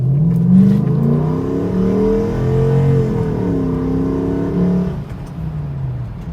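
A Toyota 4Runner engine revs up under moderate throttle, its pitch climbing and dipping through one long pull, then easing off near the end. The sound is loud and close, with no talking.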